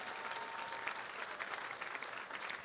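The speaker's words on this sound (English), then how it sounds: "Let's give her another big round of applause." Steady applause from the audience at a gala auction for the Minnesota Landscape Arboretum, a dense, even patter of many hands clapping that sounds fairly distant and continues without a break.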